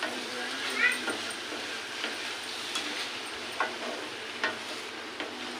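Onions and vegetables frying in a pan give off a steady, soft sizzle, with a few faint clinks of stirring scattered over it.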